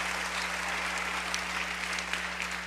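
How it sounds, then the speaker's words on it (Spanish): Steady applause fills a church congregation, many hands clapping continuously at even loudness for the whole stretch with no voices on top. "Denle un aplauso al Señor."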